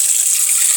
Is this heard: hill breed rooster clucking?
no